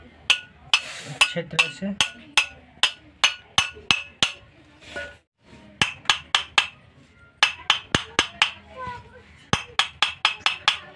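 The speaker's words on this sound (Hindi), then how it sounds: "6201 का बैठा देते हैं। और हम इसको ठोक करके" A 6201 bearing is hammered into an electric fan during a bearing replacement, with a long run of sharp, bright metallic taps in uneven rhythm and a brief pause midway, loud and close, while someone speaks briefly underneath.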